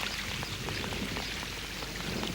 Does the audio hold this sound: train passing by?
no